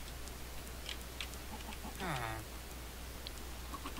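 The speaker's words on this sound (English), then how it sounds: "I don't think that chicken likes seeds." A chicken in the Minecraft video game, one short clucking call near the middle over a steady low hum and faint background ticks.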